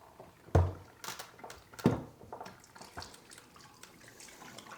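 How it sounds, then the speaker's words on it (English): Dirty water dumped from the lifted-cap reservoir of a Hoover PowerScrub Deluxe carpet cleaner, two quick gushing splashes into a sink followed by softer trickles and drips, close and fairly quiet. "You could just lift this rubber piece off and then you can dump the dirty water"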